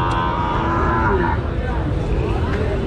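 Cattle at a weekly livestock market in Joypurhat, Bangladesh, including Sahiwal cows, low mooing and lowing over a dense, steady crowd din, close and loud throughout.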